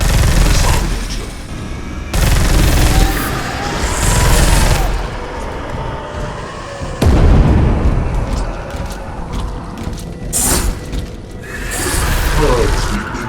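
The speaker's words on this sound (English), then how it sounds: "Warning! Missile launcher." Missile launcher fire in the Space Hulk Deathwing video game, a run of loud booming blasts and gunfire bursts with clattering mechanisms, repeating through the stretch and mixed with game voice announcements.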